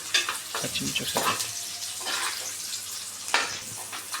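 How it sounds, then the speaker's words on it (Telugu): Half spoons of mustard seeds and cumin seeds fry in hot oil, giving irregular crackling spits and sizzling bursts with a few sharper pops, moderately close and without speech. "1/2 స్పూన్ ఆవాలు, 1/2 స్పూన్ జీలకర్ర వేసి ఫ్రై చేసుకుందాం"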